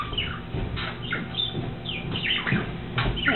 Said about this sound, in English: You might even get to see my bird in the window.